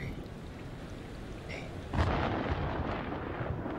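Thunderstorm in the video game Man of Medan, steady rain hiss with a rumbling roll of thunder swelling in partway through and lingering, fairly close and loud.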